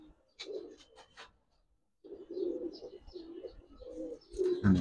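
Giribaz pigeons coo close by in soft, low, throaty phrases, a short burst first and then a longer run of repeated coos after a brief pause, with light rustling at the end.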